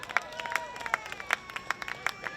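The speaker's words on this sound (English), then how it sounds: "If you can just give him a round of applause on his way up." Scattered audience clapping at an outdoor evening reading event in a park, sparse individual claps at fairly regular intervals, moderately faint, with a steady background of crowd murmur and no voices speaking over it.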